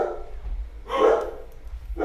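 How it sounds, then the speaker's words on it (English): Dogs bark at a UPS delivery driver in two muffled, somewhat distant bursts over a steady low hum. "my dogs are barking at the UPS driver"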